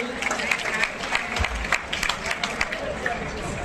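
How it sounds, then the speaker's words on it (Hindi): An audience claps loudly for educators and interview panel members at a coaching institute, dense rapid applause with crowd murmur and voices talking over it. "तो एक बार जोरदार तालियां हमारे एजुकेटर्स और इंटरव्यू पैनल मेंबर्स के लिए।"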